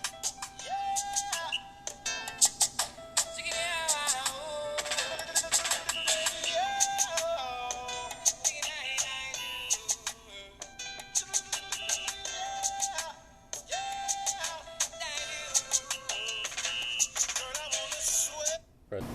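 Music from a phone plays through a HAMSWAN U18 Android 4.4 smartwatch, a bright, tinny melody with bell-like tones that continues steadily, dips briefly near the end, then resumes.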